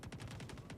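Distant gunfire in a Star Citizen firefight, a quick faint burst of about seven evenly spaced shots in a short rhythmic volley.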